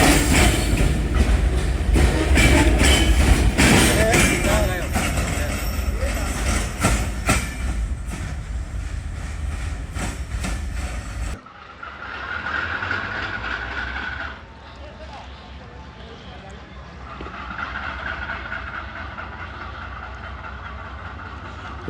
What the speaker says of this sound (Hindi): अभी आप देख रहे हैं एक कोयले से लदी हुई ट्रेन